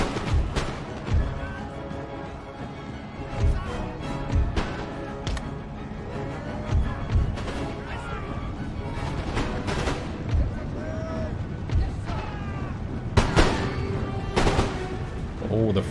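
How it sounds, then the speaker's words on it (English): Cannons fire round shot across an Empire: Total War battlefield in scattered, repeated booms, some close and sharp, others distant, under a steady din of battle and intermittent talking. "We still want to be firing at them with round shot just to affect their morale."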